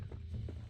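A horse's hooves clop in a quick galloping rhythm in the Western video game Red Dead Redemption, low, muffled and fairly faint.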